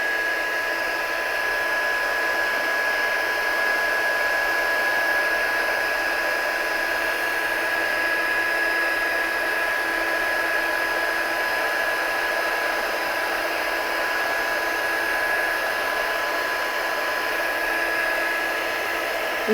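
A heat gun blows steadily while melting embossing powder on a handmade card, a constant loud whirring hiss with a high whine, unbroken for the whole stretch and with no talking.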